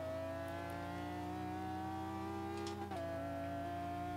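McLaren F1 engine in the Forza 5 racing game holding a steady high drone, then its pitch drops sharply near the end as it downshifts to third gear, continuous and close.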